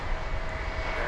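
A Boeing 777-300ER landing at DFW Airport after a long flight from Tokyo Haneda gives a brief burst of continuous, fairly faint jet engine roar.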